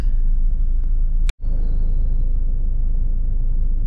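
Steady road traffic rumbles loud and close, one continuous wash of engine and tire noise. A single sharp click breaks it briefly partway through.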